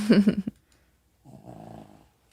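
A dog snores, one short rough burst followed after a pause by a longer, softer rumbling breath, close by with no talk.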